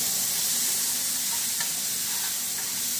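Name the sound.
onions sautéing until soft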